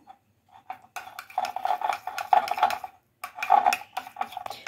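Chili garlic sauce mixed in a bowl, a spoon clinking and scraping against the sides in quick irregular strokes, close and fairly loud, with a short pause before a second burst.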